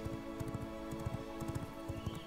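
Rhythmic clip-clop of a galloping horse's hooves in the video game V Rising, quick regular thuds repeating steadily over a soft background hum, fairly quiet with no talking.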